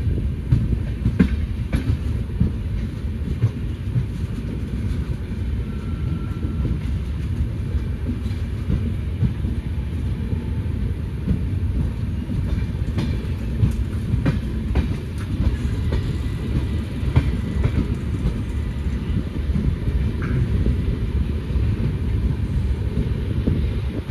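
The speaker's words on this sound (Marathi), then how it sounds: "आपल्या गाडीला सध्या डिझेल लोकोमोटिव्हच आहे" A Shri Ganganagar SF Express pulled by a diesel locomotive rolls along with a loud, unbroken rumble of wheels and carriages, mixed with rushing wind buffeting the microphone.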